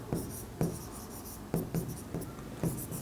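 A pen scratches across paper as an accounting statement is written out by hand, close and fairly quiet. Short strokes land in an irregular rhythm, with no talking.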